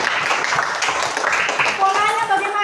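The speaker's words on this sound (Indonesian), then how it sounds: "Oke, tepuk tangan dulu di sini." A classroom of students claps together in a dense burst of hand claps, followed by children's voices calling out over the end of the applause.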